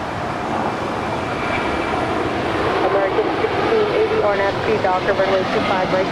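A United Airlines Airbus A320, 21 years old, lands at LAX, its engine roar rising into a loud, steady rumble with someone talking over it throughout.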